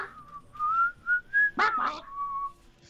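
A person whistles a short melodic tune, clear and close, with sustained wavering notes and a brief breathy interruption midway before the melody resumes and fades.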